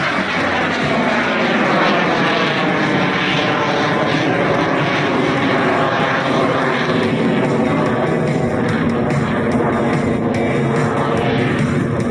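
A Yak-110 aerobatic aircraft performs an airshow display at Shellharbour, its engines giving a loud, continuous roar that stays strong and even throughout, with no voices over it.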